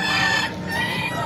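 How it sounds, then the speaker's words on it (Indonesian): Roosters at a busy village chicken market in Indonesia, with overlapping clucks and crowing, loud and close amid steady crowd noise. "Ini banyak sekali ayam di sini, ayam top-top Margota berkumpul ya"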